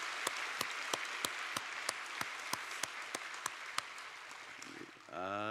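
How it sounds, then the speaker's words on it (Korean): Church congregation clapping for the children during a dawn prayer service, a steady rhythmic beat of distinct claps over a wash of applause, ending as a voice begins speaking. "우리 아이들을 위해서도 한번 박수 치겠습니다."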